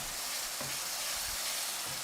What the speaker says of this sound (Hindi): मटर डाल के हमें इसको अच्छे से भून लेना है।